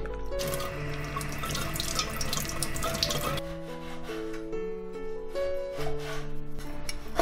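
Running tap water splashes steadily into a sink while pseudostellaria root and other dried herbs are washed, louder at first and then softer with intermittent dripping and light rinsing over soft background music.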